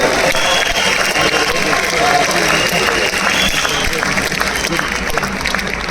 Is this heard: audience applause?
yes